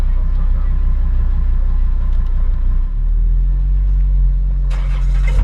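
An Audi R8 V10 idles with a loud, deep rumble, then the engine note shifts as the car pulls away, staying close and steady throughout.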